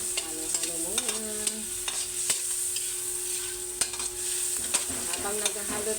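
A mussel dish with long chilies is stirred in a sizzling pan, with a continuous frying hiss and repeated clinks and scrapes of a utensil against the pan, close by and with no talking.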